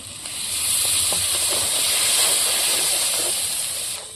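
Water hits a hot pan of fish roe and mashed bitter gourd, bursting into a loud, steady steaming hiss that swells quickly, holds for about four seconds, then fades.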